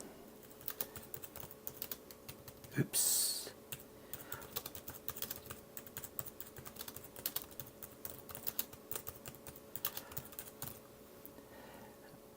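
Steady, rapid typing clatters on the detachable keyboard of an Oscal Pad 10 tablet, fairly quiet and close. A short exclamation breaks in partway through.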